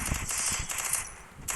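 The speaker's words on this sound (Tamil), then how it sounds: "இந்த கன் கிடச்சிருக்கு, நம்ம போய் அடிப்போம்." Rapid automatic gunfire from a video game shooter, a dense burst of shots under a constant mix of game sound, with a short pause near the end before another burst.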